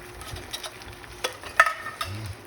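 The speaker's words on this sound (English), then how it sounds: "And see, I was sauteing some onion." Onion sautés in a pan with soft, scattered sizzling and light stirring scrapes, faint and close, with a few sharper clicks.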